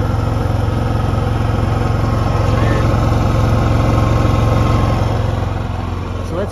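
A propane-fuelled generator runs under a 2300-watt load at around 2600 RPM, giving a steady, loud, close engine hum with an even rhythmic pulse and no break.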